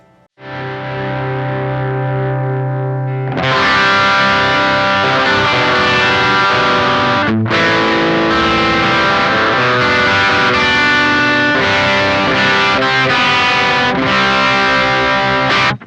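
Loud, heavily overdriven electric guitar through an overdrive pedal plays sustained distorted chords, with a brief break midway before the crunchy tone resumes.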